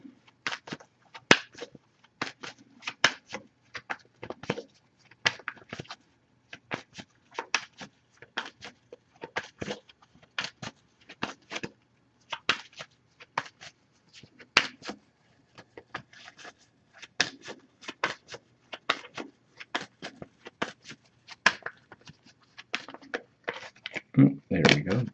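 A Wisdom of the Oracle card deck is shuffled in a dense run of crisp, snappy card riffles and flicks, close and dry against near silence, continuing steadily with a louder rustle at the end.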